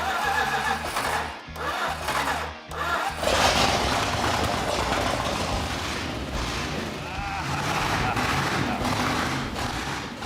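A custom-built car engine cranks with stuttering pulses, catches, and settles into a loud, steady rumbling idle close by.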